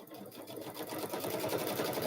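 A sewing machine back stitches on a quilted handbag with a rapid, even mechanical chatter of the needle, soft but close and continuous for about two seconds, with faint talk barely present.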